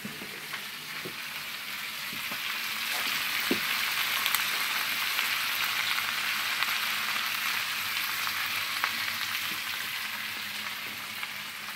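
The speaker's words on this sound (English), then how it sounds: "we're going to let this cabbage start browning on the other side some before we stir it" Cabbage and chicken fry together in a pan for a crispy chicken, cabbage and potato dish, giving a steady, even sizzle with faint crackles throughout and no talking.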